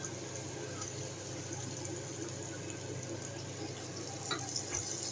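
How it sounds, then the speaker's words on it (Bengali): Rinse water from a poppy-seed bowl pours steadily into a cooking pan, a continuous close watery splash with a faint trickle, heard alone. "পোস্তর পাত্রটা ধুয়ে ওই জলটাও ওর মধ্যে দিয়ে দেবো।"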